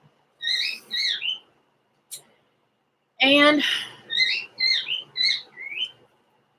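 A grieving cockatiel gives repeated whistled chirps and a harsh, raspy cry in short bursts, close and clear, with a single spoken word heard briefly.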